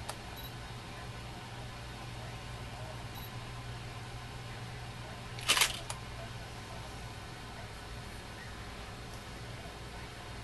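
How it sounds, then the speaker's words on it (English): One quick, crisp camera shutter click sounds once while photographing a Philco 90 radio chassis, set against a faint, steady room hum. "I always take detailed pictures of the chassis"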